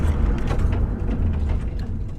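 A 1999 Nissan Skyline R34 GT-R V-Spec N1 braking hard on a road test, giving a loud, continuous low rumble with mechanical grinding and creaking through a short stop, no talk over it.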